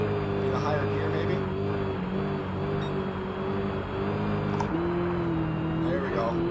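A 900hp Dodge Demon engine in Gran Turismo 7 drifts on snow at Lake Louise, holding a loud sustained roar whose pitch shifts between gears, with a voice talking over it.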